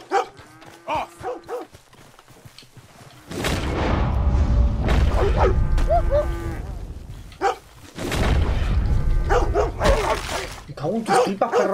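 A dog barks in the Red Dead Redemption 2 video game amid a loud rumbling game soundscape with lowing cattle, someone talking over it in stretches.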